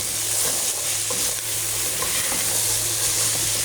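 Vegetables (capsicum, red chilli, cucumber, carrot) hitting a hot pan, giving a loud, dense, continuous sizzle and crackle close by, with no voices over it.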